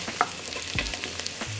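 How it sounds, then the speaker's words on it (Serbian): Onion and carrot frying together in a pan, a short close sizzle broken by a few quick stirring scrapes and clinks, with no one speaking. "dodajem šargarepu i pržim sve zajedno još 2 minuta"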